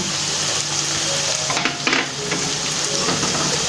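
Garlic and ginger paste sizzles steadily in a hot pan for an egg tadka, with a spoon stirring and scraping through it a few times; close, continuous frying with no talk.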